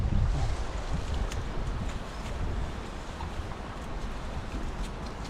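Continuous buffeting wind noise rumbles over rushing water, as if heard from a moving boat, fairly loud and unbroken.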